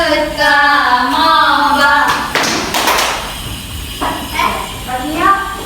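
During a classroom exercise, hands slap the thighs and clap a few times, sharp close hits spaced apart, while a voice talks steadily over them.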